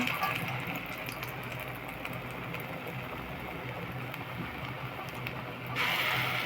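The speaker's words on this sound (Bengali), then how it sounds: "তেলটা ভালোভাবে গরম হলে তারপরেই বড়াগুলো দেবেন" Vegetable fritters (bora) fry in hot oil with a steady, rushing hiss that swells louder near the end.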